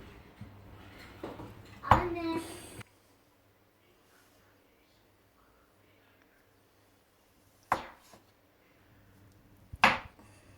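Cold butter taken from the freezer is broken into small pieces by hand, with a few sharp snaps and knocks spread across quiet stretches, along with brief faint handling noise at the start.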